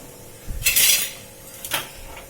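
A freshly fried lentil vada is moved onto a plate in a home kitchen, with two bright metallic clinks and scrapes of utensils against the dish, close and clear, and no speech.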